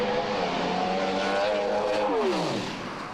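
A Pro Stock drag racing car runs at Calder Park, a loud, close engine roar whose pitch holds steady and then drops away sharply as the car passes.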